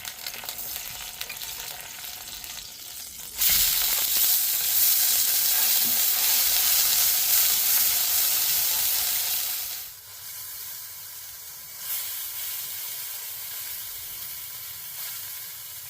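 A hamburger patty fries in a pan at an abandoned camper in the woods, a loud steady sizzle and hiss that holds for several seconds, then drops lower and keeps crackling near the mic with no talk.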